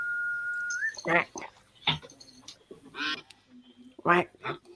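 A person imitates a duck with repeated nasal quacks in short bursts, with other voices talking in between and a faint electronic tone at the start.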